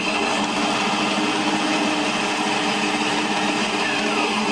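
Single-phase motor on a machine running after the start button is pressed, a steady, close electric whine and hum holding at an even level throughout with no break.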